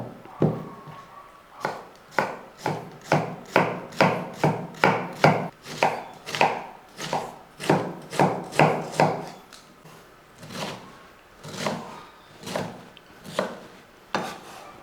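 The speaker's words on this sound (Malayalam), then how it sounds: "ഞാൻ അരിഞ്ഞെടുക്കട്ടെ." A knife chops cabbage on a board in quick, evenly spaced sharp thuds, about twenty strokes in a fast run. A few slower, scattered cuts follow, close and crisp, with no talking.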